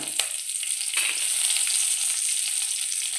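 Chana dal frying in hot oil, a steady close bright sizzle with a couple of sharp spits and crackles, no talking.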